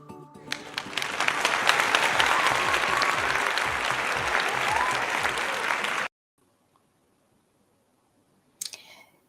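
A parents' conference crowd gives a dense, swelling round of applause to welcome a speaker to the stage, holding loud and full for about six seconds before cutting to near silence, then a brief burst of noise near the end.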